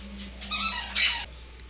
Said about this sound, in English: My dog is a big distraction. I know you don't listen to his squeaking.